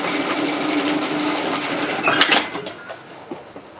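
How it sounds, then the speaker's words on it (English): A sewing machine stitches a tote bag seam through all the thick layers at once, a fast, steady mechanical whir close by that slows and stops after a couple of seconds. "Now make sure when you sew that the bulk of the seam is on this side, so we're sewing through all the thicknesses."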